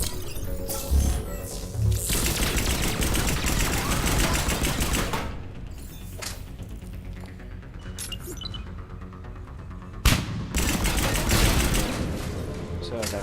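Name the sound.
gunfire from the video game Mass Effect 3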